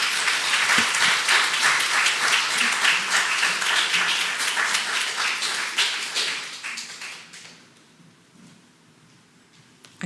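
A church congregation applauds a missionary arriving to preach at Sunday worship, dense sustained clapping for about seven seconds that then thins and fades to near silence.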